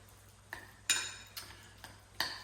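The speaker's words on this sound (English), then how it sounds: "now you want to just mash that with your spoon" A spoon mashing avocado with chunks of feta, chili and lemon juice in a bowl: a few soft, close scraping taps spaced irregularly against a quiet, humming kitchen background.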